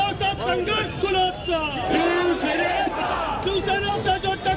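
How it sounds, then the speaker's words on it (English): Shiv Sena supporters cheering and chanting slogans in support of Uddhav Thackeray, a dense crowd of raised voices shouting in rhythm, loud and close, with overlapping calls throughout. "what you hear are Shiv Senics cheering, sloganeering in support of Uddhav Thackeray"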